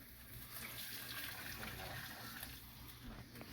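Water pours in a steady splashing stream into a cooking pot nearby, fairly quiet, continuing for a few seconds without pause.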